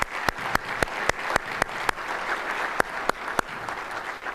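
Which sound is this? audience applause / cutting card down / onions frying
audience applause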